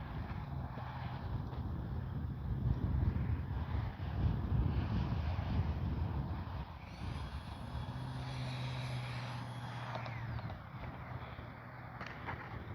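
An X-Fly Swift 2100 64mm EDF RC jet flies overhead, its ducted fan whine rising and fading as it passes at a distance, with wind rumbling on the microphone and no talking.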